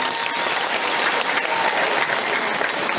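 Audience applause at a Kenyan memorial tribute gathering attended by dignitaries, a steady dense wash of many hands clapping throughout, loud and close, with no voices over it.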